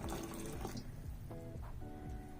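Boiling hot water poured into a container for at-home steaming, a steady close splashing fill with gurgling bursts, alone without talk.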